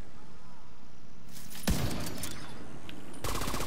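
Gunfire crackles in The Division 2, sharp bursts of rapid shots starting after a quiet moment, with a heavy impact and a final loud volley near the end, over low game ambience.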